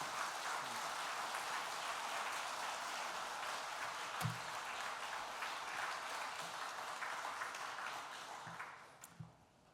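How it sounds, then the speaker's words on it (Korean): A church congregation at a Sunday service applauds steadily for about eight seconds to welcome a missionary, a dense, even roar of clapping that fades out near the end. "오늘 나오시게 될 때 박수로 한번 크게 환영하고 말씀 듣습니다."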